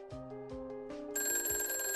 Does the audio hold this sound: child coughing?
no